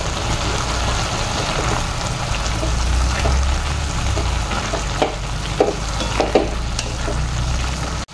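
Carrot halwa with almonds, cashews and pistachios stirred in a pan, a steady close sizzle and scraping of the spoon through the thick mixture, with a few sharper clinks near the end.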